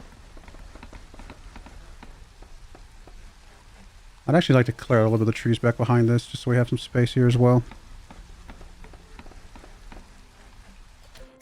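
Steady, faint rain patters in the dark fantasy city-builder game Against the Storm, a constant soft hiss with light ticking that continues beneath someone speaking midway.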